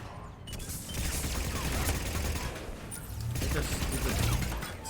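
Rapid gunfire in the video game Mass Effect 3, bursts of shots and mechanical clatter running continuously through a dense battle mix.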